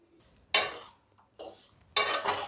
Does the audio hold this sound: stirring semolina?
yes